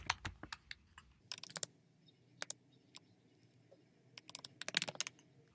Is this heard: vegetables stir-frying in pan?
no